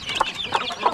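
Chickens clucking softly near newly hatched chicks in a backyard coop, three short bursts of clucks spaced evenly, close and moderately quiet.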